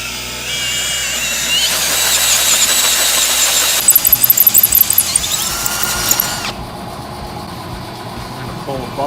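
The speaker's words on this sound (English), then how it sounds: "now we gotta drill the holes out to a bigger size" A power drill enlarges existing holes to a bigger size so they can be tapped, whining steadily with shifting pitch, then breaking into a rapid series of short bursts before settling into a lower, quieter hum.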